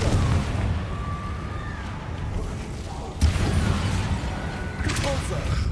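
Fire-spell blasts from the Confringo charm in the Hogwarts Legacy video game burst out in a dense, steady layer of booming game combat, with a sharp hit near the middle and another later on.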